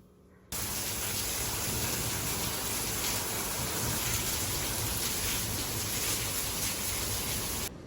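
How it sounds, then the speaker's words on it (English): Rain pours down steadily, a dense even hiss that starts abruptly and holds at a constant loudness before cutting off near the end. "it started raining"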